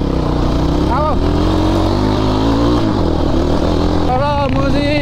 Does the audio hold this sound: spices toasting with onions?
no